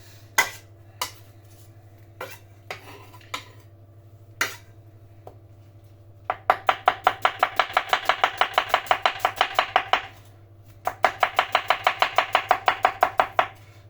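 A knife slices vegetables finely into thin strips on a cutting board: a few scattered single cuts first, then two fast, even bursts of rapid rhythmic chopping, close and crisp, with a low steady hum underneath.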